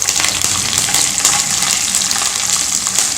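Urad dal, chana dal and peanuts fry in hot oil for South Indian variety rice, a steady close sizzle with crackling pops throughout.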